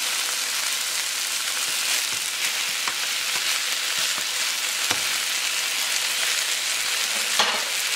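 Jamaican-style oxtail frying in a small amount of oil, a steady close sizzle and crackle with occasional sharper pops, no voices.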